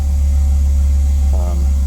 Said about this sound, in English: You can probably hear the fuel pump in the background as well.